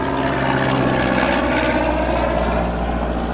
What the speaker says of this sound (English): that was a really low airplane.